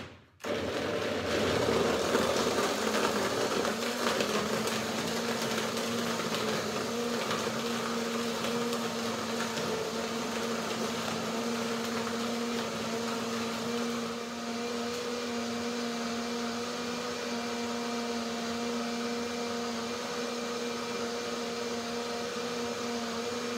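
A blender whirs steadily while mixing golden ginger almond milk, a loud continuous motor drone with a high whine that holds for the whole stretch without any break and no talking over it.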